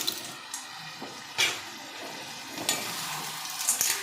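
Clams (marvai) dropped into a hot pan with turmeric and salt for coastal-style sukka: a continuous loud sizzle with bursts of spattering and stirring scrapes, close up and free of speech.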